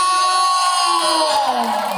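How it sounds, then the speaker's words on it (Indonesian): Crowd at a live music show in West Sulawesi cheering and shouting loudly and continuously, with sustained tonal music or voices running through the dense, even roar. "Tepuk tangannya dulu dong."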